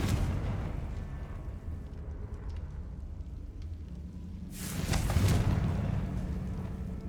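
A Confringo explosion spell in the Hogwarts Legacy video game goes off as a loud bursting boom midway through, following a low rumbling background, then a trailing roar.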